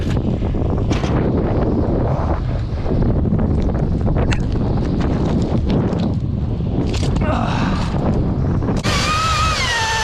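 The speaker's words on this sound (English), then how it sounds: "And the wind picked up." Strong wind blows outdoors at a big ash tree removal job, buffeting the microphone in a constant roar. A voice is heard, and a high mechanical whine enters near the end.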